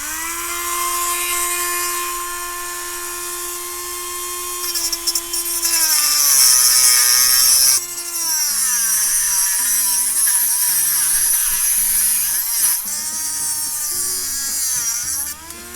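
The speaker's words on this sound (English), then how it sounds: "I'm going to use like the Proxxon roto tool" A Proxxon rotary tool whines at a steady high pitch, then bites into a metal T-nut, the pitch dropping and wavering as it cuts in loud, close, grinding passes for most of the clip.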